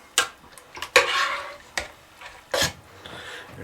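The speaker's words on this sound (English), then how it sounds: "stirring constantly until the cheese is all melted" A spoon scrapes and taps a pan while shredded pepper jack cheese melts with chicken and rice over medium heat, giving a few sharp close clinks with soft scraping between them and no talk.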